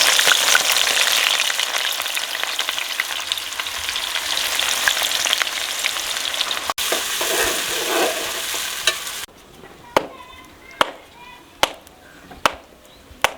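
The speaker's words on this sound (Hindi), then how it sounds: "अभी डालेंगे हम प्याज इसमें।" Onions frying in hot oil in a pan give off a loud, dense sizzle for several seconds, easing off, followed by softer sizzling with a few sharp clinks of a utensil against the pan.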